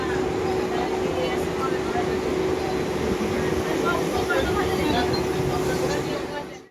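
A local passenger train rumbles steadily along with a constant mechanical hum and rattle, while people chatter nearby in the carriage.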